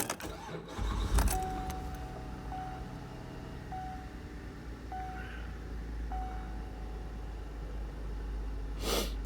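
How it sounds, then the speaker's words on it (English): A 2012 GMC Acadia is started with a short cranking burst, then settles into a steady low engine idle while a faint intermittent electronic beep repeats in the cabin. "So then we're going to start the car up."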